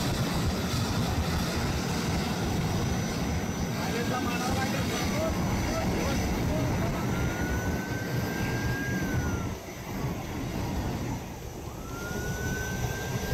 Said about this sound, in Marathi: स्पाइसजेटच्या विमानाचं आपत्कालीन लँडिंग करावं लागलेलं आहे